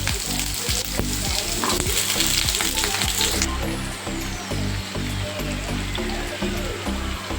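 Pumpkin and potato pieces frying in a pan with oil, a loud continuous sizzle with stirring scrapes and clatters, the hiss shifting partway through as the pieces settle in.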